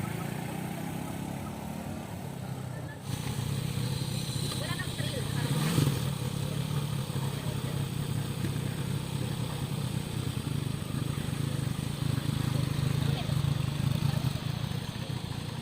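A big manual motorcycle's engine runs steadily in first gear at low revs during a riding lesson, a constant close mechanical hum with a brief clatter. An instructor talks over it.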